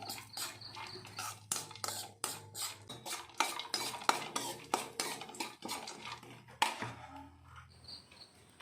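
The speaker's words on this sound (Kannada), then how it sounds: "ಈ ರೀತಿ ತಿರುಗಿಸ್ತಾ ಬಾದಾಮಿನ ಚೆನ್ನಾಗಿ ಫ್ರೈ ಮಾಡ್ಕೊಬೇಕಾಗುತ್ತೆ." Almonds being stirred and fried in a pan for a dry fruit laddu, with a spoon repeatedly scraping and clinking against the metal in an uneven rhythm and a soft sizzle underneath, close and alone with no talk.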